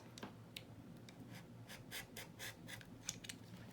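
Scissors snip through paper to shape the tops of tri-fold junk journal tags, a run of crisp, quick cuts at close range in a quiet room.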